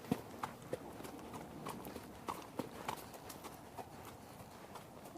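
Hooves of a walking horse clip-clop in an uneven rhythm of sharp knocks, fairly close, on a ranch with faint birds in the background.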